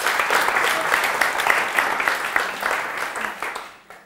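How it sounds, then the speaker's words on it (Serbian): An audience in a debate hall applauds the affirmative debate team: continuous, fairly loud clapping that holds steady and then tapers off quickly at the end. "aplauz za afirmaciju"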